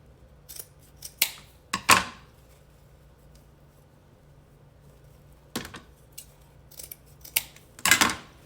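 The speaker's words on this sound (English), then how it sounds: "Go ahead and cut this zip tie off." Scissors snip near a satin-ribbon wreath, cutting off a zip tie in several sharp, close crisp clicks, grouped in short bursts separated by quiet gaps.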